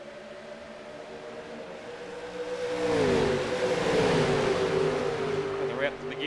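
NASCAR race cars accelerating around Daytona International Speedway in the iRacing video game, engines droning and rising in pitch as the pack swells, loud and steady under a commentator's voice.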